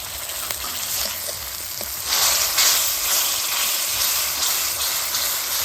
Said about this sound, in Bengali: এবার সব মশলাগুলো কিন্তু ভালোভাবে কষে নিব